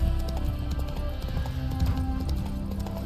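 Horse hooves clip-clop steadily at a trot in The Witcher 3, close and continuous, with a brief neigh or whinny mixed into the rhythmic footfalls.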